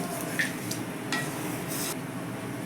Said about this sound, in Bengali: ডালটাকে ভালো করে মশলার সঙ্গে মিশিয়ে নেব